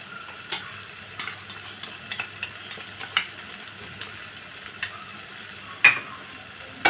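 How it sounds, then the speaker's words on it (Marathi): A spoon stirs onion, tomato, turmeric and masala in a frying pan, giving a series of light metallic scrapes and clinks in an irregular rhythm over a soft, steady sizzle, heard close with no talking. "हे सगळं मिक्स करून घ्यायचं आहे"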